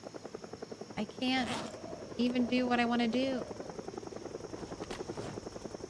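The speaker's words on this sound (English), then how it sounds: "that's a helicopter already." A helicopter flies over in Project Zomboid with a steady, pulsing rotor chop at moderate distance, and someone speaks over part of it.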